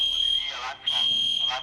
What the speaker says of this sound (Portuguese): Foi um alarme falso de incêndio.